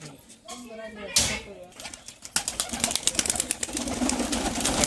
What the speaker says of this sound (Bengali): এগুলো ভেতরকার পায়রা বেরোচ্ছে